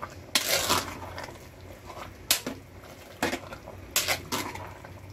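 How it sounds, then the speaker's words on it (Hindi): Bottle gourd being stirred in milk in a pan for halwa: a spoon scrapes and clinks against the pan in several separate strokes over a low, soft background. "इसको अच्छे से हमें स्टर करना है इसके अंदर।"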